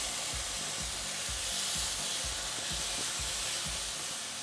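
A mushroom sauce sizzles in a pan while being stirred, a constant bright frying hiss with soft rhythmic scraping pulses underneath, close by and steady.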